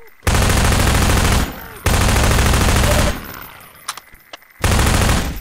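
Gunfire in the video game Half-Life 2 comes in long, loud bursts of rapid automatic shots, broken by short pauses and a few single cracks.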